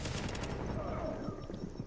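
Gunfire rattles through a player-versus-player fight in The Division, a dense run of fairly loud rapid shots in the first half that thins to softer scattered fire, with a voice faintly present.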